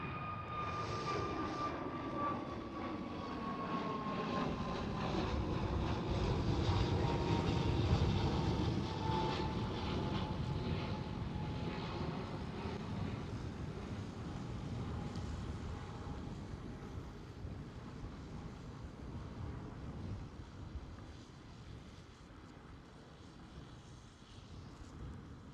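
An EgyptAir A321neo at Schiphol produces a steady, loud jet engine roar with a rising whine, sustained throughout and slowly fading, with wind buffeting the microphone.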